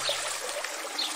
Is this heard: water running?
yes